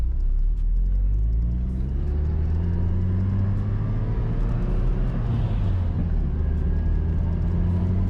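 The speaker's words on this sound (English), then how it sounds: "setting off in the S13 Silvia." A Nissan S13 Silvia with a turbo engine and 5-speed gearbox pulls away, its steady loud engine drone and low rumble filling the cabin as the revs rise and fall slightly.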